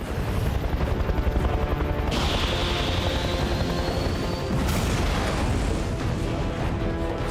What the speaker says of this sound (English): Target is now an MH-53 helicopter.